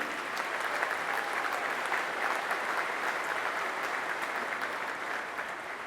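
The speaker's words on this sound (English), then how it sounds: "Let's give you all a round of applause for what you've done." A large crowd gathered at the Patriot Plaza dedication ceremony applauds in a steady, dense wash of clapping that holds at an even level throughout, with no voices standing out.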